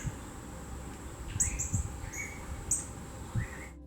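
A northern cardinal sings a few short, bright chirps and slurred whistles against a faint hiss of outdoor background noise, with no voices.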